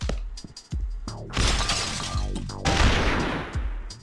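A loud burst of shattering, crashing noise erupts as a car explodes, followed by sustained debris-like roaring and crackling, with sharp thuds before and after, from a mobile video game.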